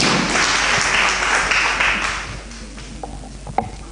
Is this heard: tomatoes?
no